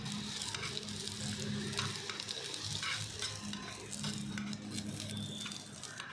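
Unpeeled garlic cloves sauté in hot oil in a pan for a Maharashtrian crab curry, a steady close sizzle broken by stirring scrapes and soft patters throughout.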